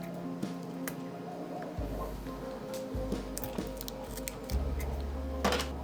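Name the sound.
cutting with scissors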